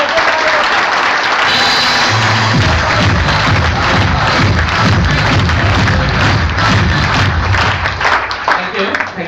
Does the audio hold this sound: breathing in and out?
no